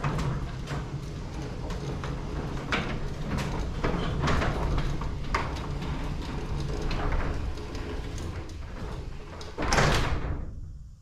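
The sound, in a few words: garage door operating quietly with new hinges and rollers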